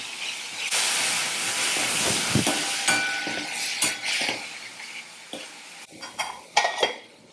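Yogurt being stirred into a chilli mixture in a pan, a steady hiss and scrape of a spoon with a few sharp clinks against the pan toward the end, close and fairly quiet.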